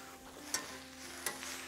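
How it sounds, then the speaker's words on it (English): Cabbage and onion sear on a Vulcanus grill, a steady soft hiss of frying with two brief sharp crackles, quiet and close, no voices. "I'm hearing a lovely sizzle"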